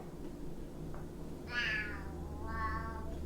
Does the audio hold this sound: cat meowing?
yes